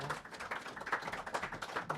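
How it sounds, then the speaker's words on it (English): Applause from a concert audience welcoming a band back for another set, a soft, fairly distant patter of clapping with irregular peaks, steady for the whole stretch. "So let's give them a round of applause."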